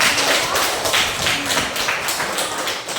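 A classroom group claps their hands together in a steady, dense round of applause lasting the whole moment, fairly loud and close, with no voices over it.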